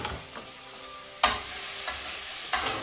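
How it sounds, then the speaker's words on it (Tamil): Onions sautéing in a pan for a mutton chops dish, a bright, steady sizzle with sharp spatula scrapes and stirring knocks at intervals, close and alone. "மீதம் இருக்கும் வெங்காயத்தை இதுக்குள்ளே போட்டுட்டு நல்லா வதங்கட்டும்."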